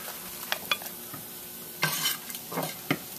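Soft sizzling of tortillas frying crisp in a pan, broken by a few brief clinks and stirring scrapes, with no voices.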